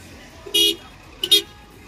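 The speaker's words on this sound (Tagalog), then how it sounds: "Lahat gustong makaalis dito sa napakahabang traffic na to" Two short car horn toots sound in quick succession in a long traffic jam, fairly close over a quiet idling background.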